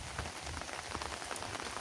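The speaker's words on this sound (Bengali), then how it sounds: "ওই যে বৃষ্টি চলতেইছে" Rain keeps falling beside a rising river, a close, steady wash of drops hissing and pattering across surfaces, unbroken and alone.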